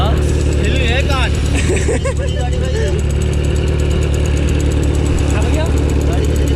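A loud superbike, likely a ZX-10R or Z900, idles on an Indian highway with a steady heavy engine drone and occasional revs, while people talk loudly over it.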